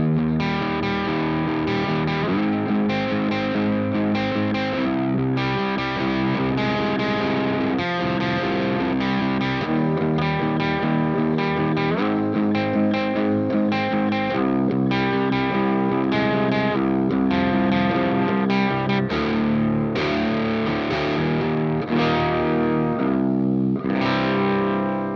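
Heavily distorted electric guitar chords through an Orange Rockerverb 100 tube amp head play continuously, thick and loud, with steady rhythmic strumming throughout.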